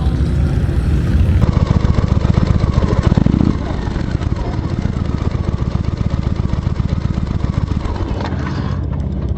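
A motorcycle engine runs loud and close at a steady idle for the whole stretch, with a brief harder surge near the start and people talking faintly over it.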